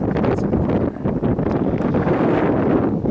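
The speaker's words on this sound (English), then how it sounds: "It's windy" Loud gusting wind on the summit of Mount Kearsarge, New Hampshire, buffets the microphone in a continuous roar, rising and falling in rough waves with no other sounds standing out.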